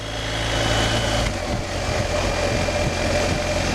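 BMW R1250GS Rallye motorcycle engine running steadily on the road after a burst of acceleration, a continuous mid-pitched hum with wind noise, fairly close and with no talk.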